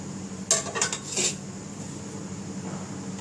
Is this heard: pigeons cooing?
no